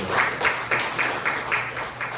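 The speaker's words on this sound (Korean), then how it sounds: "우리 1, 2학년 친구들 고3 학생들 수고했다고 박수 한번 쳐줄까요?" Students at a high school church youth service clap for graduating seniors, a loud close rhythmic run of about eight claps in even succession.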